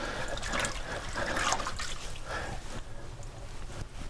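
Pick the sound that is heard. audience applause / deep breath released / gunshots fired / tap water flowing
tap water flowing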